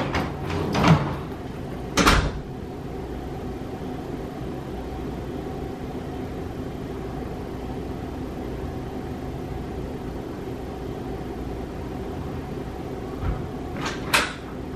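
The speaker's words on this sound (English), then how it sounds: "Come lock your door, girl." A door bangs shut and a latch or lock clicks in a couple of quick knocks, then a long quiet stretch of room hiss, then more clicks and handling near the end.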